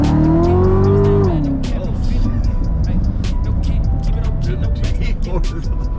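A Chevrolet Corvette C7 Z06 pulls hard, its engine note rising then dropping at a shift, and the cabin fills with road roar while a voice speaks over it.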